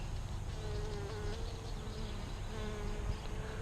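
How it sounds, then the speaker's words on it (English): Honeybees buzzing inside a managed single beehive as a new bee emerges from its cell, a steady close hum of many insects with faint higher whines, continuous with no talk. "There's a bee right there just emerging."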